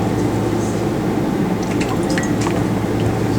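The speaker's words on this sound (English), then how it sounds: "So let's stir that up a bit." Acid solution being stirred in a laboratory beaker during a pH buffer experiment, giving a steady close liquid swirl with soft squishing and a few small drips and clinks over a constant low room hum, with no talking.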